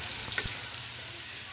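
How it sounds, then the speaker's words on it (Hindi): Boiled black-eyed beans cook in masala on low heat with a steady, soft sizzle and a brief stirring scrape near the start. "हमने उसमें उबले हुए लोबिये को शामिल कर दिया है, करके इसको अच्छे तरीके से मिक्स करेंगे और हल्की आँच पर इसको रख देंगे।"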